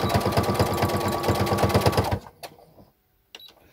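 A domestic sewing machine stitches a side seam on a child's spring dress, running with a fast steady mechanical chatter for about two seconds and then stopping, followed by a few faint clicks.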